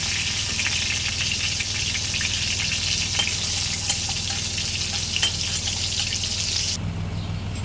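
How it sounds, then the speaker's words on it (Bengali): Pieces of pointed gourd frying in hot oil, a dense continuous sizzle with light crackles and occasional stirring, steady and close until it drops off near the end. "মিডিয়াম আছে পটলগুলো লাল করে ভেজে নেব।"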